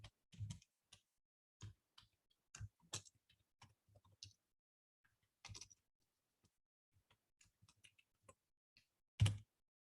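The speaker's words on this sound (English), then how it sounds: "I cannot type today" Computer keys clack in irregular short bursts, close and fairly quiet, with pauses between the clusters of keystrokes and no talking.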